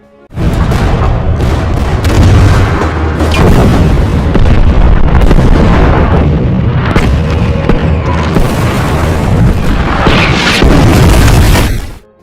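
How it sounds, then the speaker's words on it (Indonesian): Loud, dense artillery barrage and explosions in a World War II battle scene with Soviet soldiers under fire, continuous heavy booms and blasts rolling over one another for about twelve seconds before cutting off abruptly. "artileri pun langsung ditembakkan."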